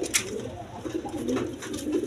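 Two pigeons of a pair kept for sale coo nearby in a few soft, rolling throaty calls, with a faint bright chirp early on and no speech.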